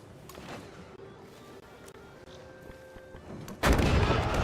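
Units exchange fire in the strategy game Civilization VII, with scattered shots and muffled booms that end in a sudden loud, sustained blast of gunfire and artillery.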